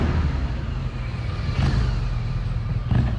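An old BMW GS motorcycle rumbles past at a steady mid level, its engine note swelling slightly around the middle and again near the end over a constant low background drone.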